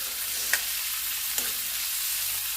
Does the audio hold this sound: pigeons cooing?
no